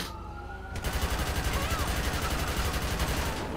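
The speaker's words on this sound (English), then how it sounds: "Shots fired." Gunfire rings out in a GTA San Andreas FivePD police game: a sudden burst of rapid, evenly spaced shots starts early and keeps hammering loudly to the end over a background siren-like tone.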